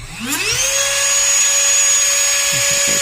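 A Ryobi or Dremel rotary tool spins up to about 30,000 RPM. Its whine rises quickly in pitch and then holds as a steady, loud, high-pitched tone.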